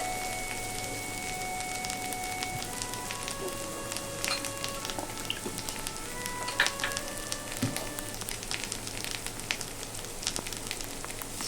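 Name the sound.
onion garlic paste frying and being stirred in a pan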